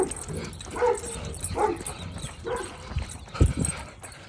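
Dogs, one of them a huge dog, bark back and forth at each other in a series of short, rough barks spread across a few seconds, with the loudest burst near the end.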